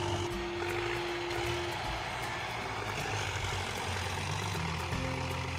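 A heavy tow machine's engine labours while pulling a tractor out of swampy mud, a loud continuous diesel rumble with steady droning tones throughout.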